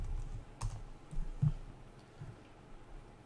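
Light typing on a computer keyboard, a few scattered soft keystrokes and taps at close range over a quiet background hiss, with no voices.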